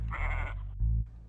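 A ram gives a short, close, loud bleat with a wavering tone, breaking off and resuming briefly.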